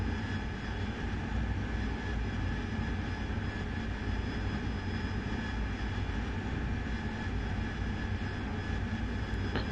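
Steady, loud roar of an F-16 jet engine in flight in the DCS flight simulator, a continuous broadband rumble with a constant whine holding evenly throughout, no voices.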